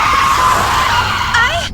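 A bus skidding after losing its brakes, with a loud, sustained tire squeal and screech that rises and bends near the end.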